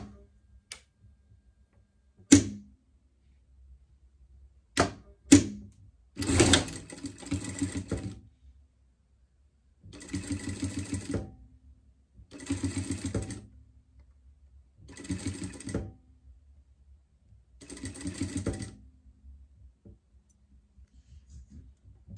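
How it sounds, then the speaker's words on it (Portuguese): Sewing machine stitching a seam on the brim of a pet cap, running in several separate bursts of a few seconds each, with short clicks and pauses between the runs. "Passar uma costura, deixar só em cima aqui pra gente virar a peça."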